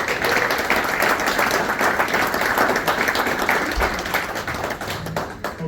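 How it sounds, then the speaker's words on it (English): A banquet crowd at a senior softball gathering applauds their executive director, a continuous, moderately loud wash of many hands clapping with no speech over it. "I would just like to have a big round of applause for our Executive Director"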